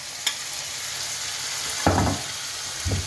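Fresh tomatoes go into a hot pan and sizzle and fry steadily as a filling for stuffed aubergine with mushrooms. A few brief stirring scrapes and clatters are heard close by.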